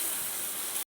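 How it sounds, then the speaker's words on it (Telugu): About 400 grams of sliced onions frying in a pan for chicken dum biryani, a steady loud sizzling hiss that cuts off abruptly near the end. "ఇలా ఉల్లిపాయలు చక్కగా వేగుతున్నాయి."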